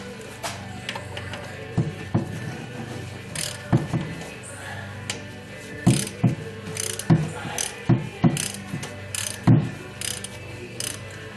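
A ratchet works bolts loose beneath a 1976 Corvette while fluids are drained, giving bursts of clicking strokes at irregular intervals over a busy garage background.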